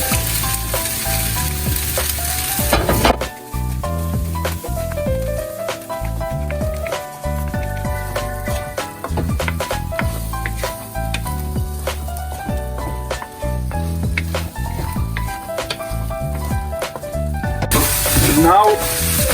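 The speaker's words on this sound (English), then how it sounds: "Now add in the egg." An egg for egg fried rice sizzles loudly in a hot pan while a utensil stirs and scrapes it, close and steady for nearly twenty seconds, with music playing underneath.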